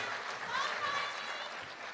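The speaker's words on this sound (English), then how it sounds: "please give these students one more round of applause" Applause for fourth grade award recipients at an elementary school promotion ceremony, a steady broadband patter of many hands filling the room, with a faint voice over it.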